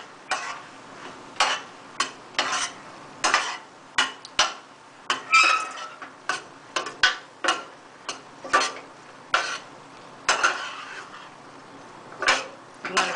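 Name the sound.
stirring okra in a frying pan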